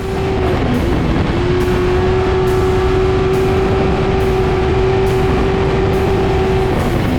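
Race truck speeding along a long graded dirt road during an off-road desert race, a loud continuous engine roar with a sustained steady tone and rushing wind noise, held at high speed without pause.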